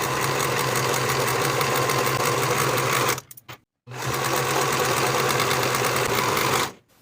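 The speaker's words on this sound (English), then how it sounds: "I'm going to finish the side edges with my serger" A serger overlocks the side edges of linen dress fabric, running at a steady, fast, loud mechanical whir that stops briefly midway and then resumes before cutting off again.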